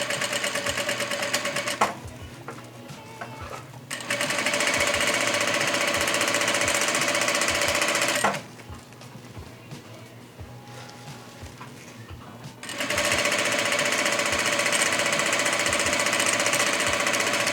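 Vevor industrial sewing machine stitching wired ribbon runs in loud fast mechanical bursts, stopping twice for a few seconds with quieter handling noise between runs.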